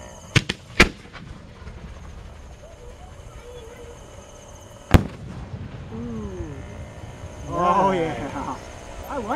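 Holiday fireworks shells are launched from a mortar in Bangkok: sharp loud booms and cracks go off at the start and again near the middle, followed by crackling breaks while people talk and exclaim nearby.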